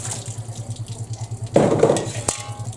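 Water from a tap runs into a basin while vegetables are washed, a short splashing gush over a low background hum, ending with a small clink.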